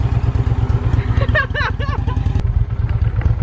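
A motorcycle engine starts and settles into a steady, close, throbbing idle with rhythmic low pulses, while a voice calls out briefly over it partway through.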